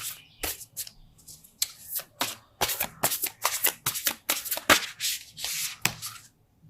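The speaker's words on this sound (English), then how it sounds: "these cards are so big, they're hard for me to shuffle." Large oracle cards being shuffled in a series of brisk, crisp riffling bursts, close up and fairly loud, with brief pauses between shuffles.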